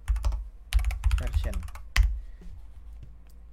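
Typing on a computer keyboard while entering an npm command in a terminal during a Flutter Firebase CLI setup, with bursts of close, rapid key clicks and someone speaking over the clatter.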